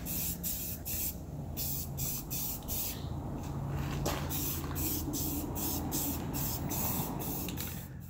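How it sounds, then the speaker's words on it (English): Aerosol primer sprayed onto metal parts treated with Rust Kutter, a close, steady hiss broken by short pauses between bursts, with no voices. "They've had plenty of time to dry, so we're going to prime them here real quick."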